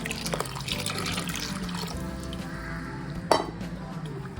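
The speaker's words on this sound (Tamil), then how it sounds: "தேங்காய் பாலை ஊற்றணும்." Coconut milk is poured into rice porridge made with mappillai samba and black kavuni rice, giving a soft continuous liquid splash and stirring sound close by, with a brief utensil clink near the end.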